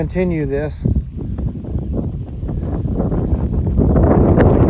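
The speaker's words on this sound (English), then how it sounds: "Wind's really picked up here today." Strong wind buffets the microphone at a rural homestead during a barn build, a continuous rough rumble that grows louder toward the end, with a short stretch of talk near the start.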